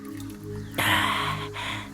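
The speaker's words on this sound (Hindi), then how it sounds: "मैं पानी डालती हूँ, पी लीजिए।" Water is poured, a splashing gush that starts abruptly partway through over a low hum and continues steadily with a brief dip, fairly close.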